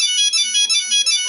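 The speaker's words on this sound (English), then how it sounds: "Nokia phone just starts going ballistic" A Nokia mobile phone rings loudly near a big vent, its bright electronic tone pulsing in short bursts with no voices over it.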